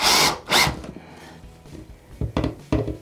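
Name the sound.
cordless screwdriver driving screws into driftwood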